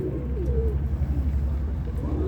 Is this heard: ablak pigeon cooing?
yes